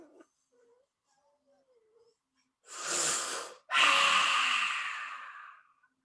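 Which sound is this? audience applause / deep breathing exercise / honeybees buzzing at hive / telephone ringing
deep breathing exercise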